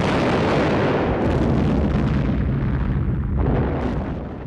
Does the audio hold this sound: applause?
no